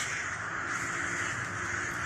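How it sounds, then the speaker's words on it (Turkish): Many crows cawing together in a small city park in Iran, a dense, steady chorus of overlapping calls filling the whole stretch, fairly close and continuous with no talk. "Oldukça çok karga var görüyorsunuz."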